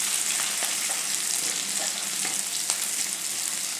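Small pieces of ginger sizzle and fry in hot oil in a pan for a dal tadka, giving a steady close crackling hiss with faint stirring ticks and no talking.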